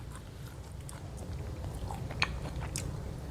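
Someone bites and chews crispy deep-fried pork belly cooked in beef tallow, close and quiet, with a few faint crunches over soft chewing.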